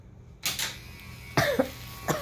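A few sharp coughs, close and fairly loud, with short pauses between them and a final cough near the end.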